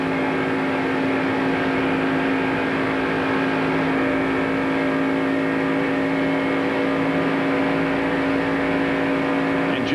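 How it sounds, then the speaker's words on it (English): NASCAR stock car engine at the 1994 Pepsi 400 at Daytona, heard from an in-car camera: a steady, droning high-rev roar holding constant pitch throughout, loud and close. "We can hear the engine in Mark Martin's car."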